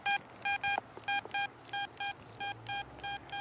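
A metal detector signals a steady 80 reading on a target still in the ground during a yard hunt in western Pennsylvania, giving a series of about ten short, evenly repeated clean beeps, close and clear.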